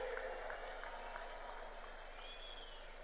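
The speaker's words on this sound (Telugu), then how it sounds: "చప్పట్లు ఏ విధంగా మారుమోగాలో ఒక్కసారి మళ్ళా చేసి చూపించండి" Sustained applause from an audience at a political rally fills the space evenly, a dense steady wash of clapping that stays level throughout with no clear voices on top.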